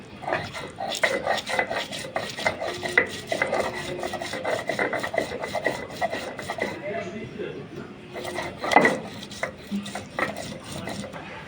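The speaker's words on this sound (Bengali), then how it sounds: "এগুলো এখন আমি বেটে নেব কাঁঠালের বিচির জন্য" Rhythmic rough grinding and rasping of onions and chillies being crushed on a stone slab, repeated strokes with occasional knocks, under faint talk.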